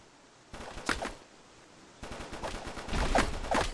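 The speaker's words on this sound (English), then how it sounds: "I'm just shooting" Bursts of automatic gunfire ring out in a Call of Duty-style shooter game, with a short volley followed by a longer sustained stretch of rapid shots.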